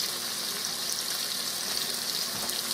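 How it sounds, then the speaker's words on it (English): Celery and onion sauteing in a pan, a close, constant crackling sizzle with a bright hiss, even and unbroken throughout. "we're going to let these saute"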